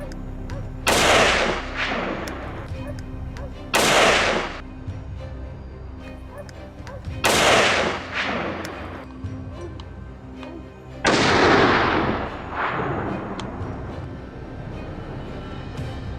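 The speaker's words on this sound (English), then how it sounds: "gunshots rang out in succession, instantly halting its escape" Rifle shots fired at wild boar during a hunt, four loud, sharp reports spaced a few seconds apart, each ringing out with a decaying echo over a narrated background.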